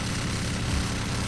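A helicopter in the video game GTA 4 gives a steady, loud rotor and engine drone, close and continuous, with no talk over it.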